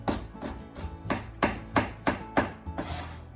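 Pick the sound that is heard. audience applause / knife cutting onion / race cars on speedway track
knife cutting onion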